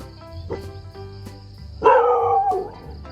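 A dog gives a few short yips, then a louder drawn-out howling bark near the end, close by, with no talking.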